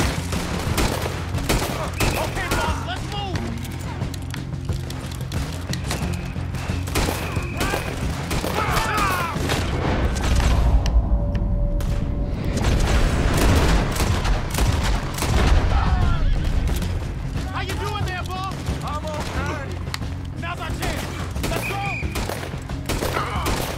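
Rapid bursts of gunfire in Red Dead Redemption 2 crackle and boom almost continuously, with scattered explosions and faint voices mixed into the dense, loud barrage.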